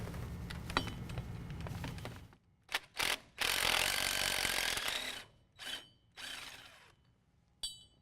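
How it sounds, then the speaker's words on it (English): A ratchet works the six 10mm drive shaft bolts on a 2015-17 Ford F-150 4WD: a sustained clicking run, then several short bursts of ratcheting separated by pauses, close up with no talk. "So now we're going to remove the 6 10mm bolts that are holding on the drive shaft"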